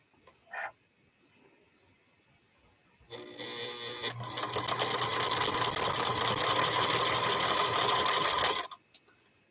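A sewing machine stitches a table runner, starting with a brief click and then running for about five seconds in a loud, fast, steady mechanical whir before stopping abruptly.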